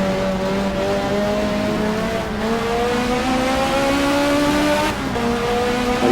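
Toyota and BMW touring race cars in Race 07 roar past together, engines droning loudly with rising and shifting pitch through gear changes, a steady close pack of motors with occasional tyre squeal.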